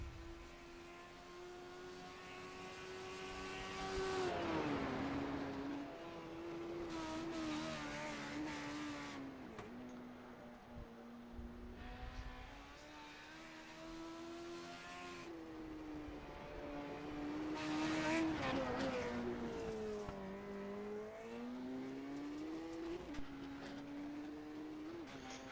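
Rallycross cars racing around a track at Atlanta Motor Speedway, a steady engine drone rising and falling in pitch as cars pass and shift, with louder surges, heard continuously at moderate distance.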